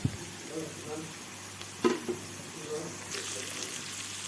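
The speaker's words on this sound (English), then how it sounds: "saute it together with the other veggies" Spring onions sautéing with other diced vegetables in a pan for chilli-garlic noodles, a steady soft sizzle with a few scraping stir sounds, close by and moderately loud.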